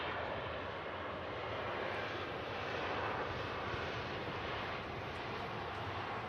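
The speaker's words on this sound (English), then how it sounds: "And we've also got the Q8 330 pushing back as well" An Airbus A330 pushes back at Manchester Airport, its engines giving off a steady, distant broadband roar that holds level with no breaks throughout.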